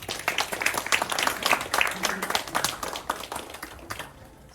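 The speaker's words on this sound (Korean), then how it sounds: "박수 드립니다" Audience applause at an award ceremony for a reading essay contest in Busan, held as a prize and certificate are presented. The clapping is moderately loud and steady, then gradually thins out and fades toward the end.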